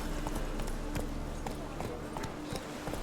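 A horse gallops in The Witcher 3 with quick, steady hoofbeats close by, layered over continuous background game sound.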